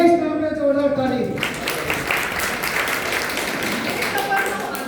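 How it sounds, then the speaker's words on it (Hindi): Audience applause breaks out at a senior citizens' forum stage play, a loud, steady wash of clapping that carries through the whole stretch. "हो जाए इस काम में जोरदार ताली।"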